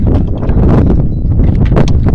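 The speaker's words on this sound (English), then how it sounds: "little gusty, a little windy, but it started off super calm" Loud, buffeting wind noise rumbles across the microphone in uneven gusts, with rustling throughout and no voices.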